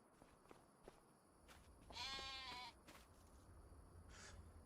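Jacob ewes in a Farming Simulator 25 farm give one clear, drawn-out bleat over a quiet outdoor ambience with faint footsteps, with a softer, more distant bleat following a couple of seconds later.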